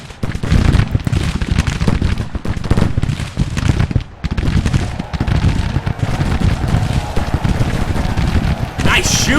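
Infantry musket volleys in the Grand Tactician American Civil War game crackle densely and continuously, with rolling popping shots over a rumbling battlefield din, loud and sustained.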